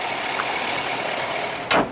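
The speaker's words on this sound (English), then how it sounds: "setting off in the completely refreshed 2016 GMC Sierra" A 2016 GMC Sierra 1500 Denali pickup truck sets off, its engine producing a steady, fairly loud mid-range hum throughout, with a brief sharper swell of noise near the end.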